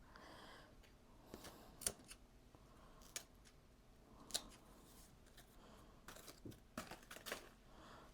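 Scissors snip the leaves off a houseplant indoors, giving crisp, close, quiet clicks at irregular intervals with light leafy crinkling between cuts.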